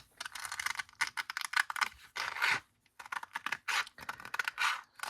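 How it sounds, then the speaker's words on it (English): An old pair of scissors snips through sandpaper in quick, crisp, scratchy bursts, close and fairly quiet, with short pauses between runs of cuts. "use an old pair of scissors to cut it out"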